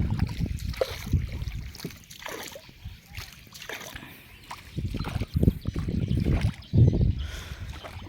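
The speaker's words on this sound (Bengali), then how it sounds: "আমরা এখন নদীতে ঘোরাফেরা করতেছি নৌকা দিয়ে" A small boat moves on a river on a foggy winter day, with low water sloshing and splashes of paddling close by, and muffled voices talking in the background.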